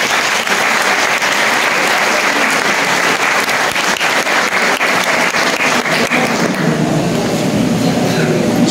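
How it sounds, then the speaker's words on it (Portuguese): Sustained applause from a church congregation at the closing of a Saint Anthony feast, dense and steady clapping throughout, with the texture shifting slightly toward the end. "vamos acolher com uma salva de palmas"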